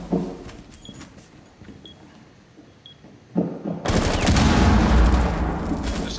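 Gunfire in the video game Rainbow Six Siege during a team deathmatch at a Hereford Base, quiet scattered shots and clicks at first, then a sudden loud, sustained burst of rapid shooting and impact noise.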